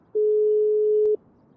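A phone call placed inside GTA RP gives a single steady electronic ringback tone lasting about a second, clean and fairly loud against near silence.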